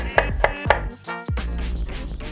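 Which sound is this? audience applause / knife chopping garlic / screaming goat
knife chopping garlic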